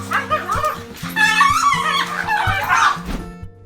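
Several small dogs bark, yip and whimper excitedly while greeting their owner, a soldier returning home, in a short, lively burst of overlapping close yaps with some laughter mixed in.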